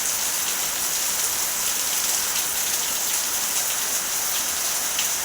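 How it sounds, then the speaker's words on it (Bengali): Heavy rain pours down outside in a dense, unbroken roar of drops hitting surfaces, loud and steady for the whole stretch, with no voices. "কত বৃষ্টি পড়ছে বাইরে ঝমঝম করে বৃষ্টি পড়ছে"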